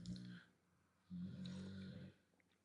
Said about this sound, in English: I got a dog snoring under my desk.